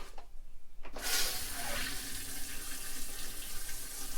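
Water rushes steadily into an RV toilet bowl as it is flushed down to the black tank, a loud continuous gush starting abruptly after a brief lull and running without talk.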